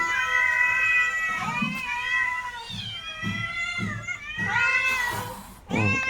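Several cats meow insistently while waiting to be fed fish, repeated drawn-out wails overlapping close by, with no talk.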